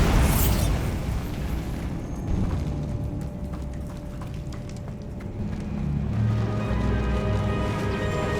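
Bombarda and Confringo spell explosions from Hogwarts Legacy, with a loud blast at the start followed by a dense, rumbling wash of debris and crackling that stays strong and swells again near the end.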